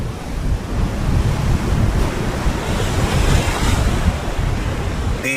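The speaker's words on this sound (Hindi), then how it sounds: "तेज हवा और तूफानी लहरों की वजह से ठंडे समंदर में झाग बनती है।" Stormy waves crash and churn on a cold sea coast under strong gusting wind, a dense, continuous roar with no voices.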